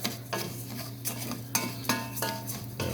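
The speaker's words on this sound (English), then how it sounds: "Keep moving this around even after the fire because it's still hot and it's still gonna keep cooking." Rice toasting in a hot pan for Mexican rice, stirred steadily off the heat, with repeated scraping strokes of a utensil against the pan at a regular rhythm, close and fairly loud, over a low steady hum.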